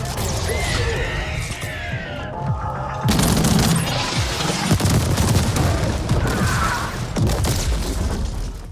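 Gunfire and explosions from the video game The Ascent: a dense, loud barrage of shots, crashes and booming blasts with debris, with irregular louder bursts throughout.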